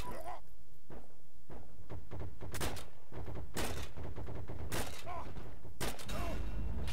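M1 Garand rifle shots in the online war game Heroes and Generals ring out as a handful of sharp, spaced cracks over a constant bed of battlefield noise and distant gunfire.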